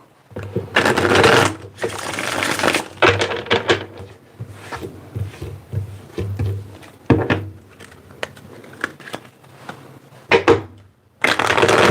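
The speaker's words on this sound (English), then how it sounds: "Let me get 2 more shuffles here." Bursts of riffling and shuffling tarot cards, several quick flurries separated by softer handling noises and thumps, close up with no talking.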